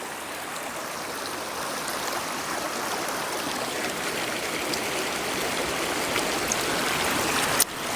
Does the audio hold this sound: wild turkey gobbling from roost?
no